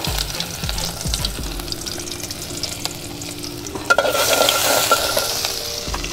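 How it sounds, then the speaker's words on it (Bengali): Chopped raw onions frying in hot soybean oil in a pot, a low crackle that swells into a louder, dense, close sizzle partway through and keeps going. "পাতিলে তেল গরম হইতে দিয়েছি, কাঁচা পেঁয়াজ কুচি দিয়ে দিলাম"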